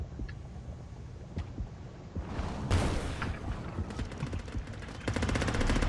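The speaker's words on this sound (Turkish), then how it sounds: "Boşaltın mermiyi ya." Gunfire in the underwater shark game Depth: rapid bursts of automatic shots rattling in quick runs, growing denser toward the end, heard over a murky ambient wash with no clear talk.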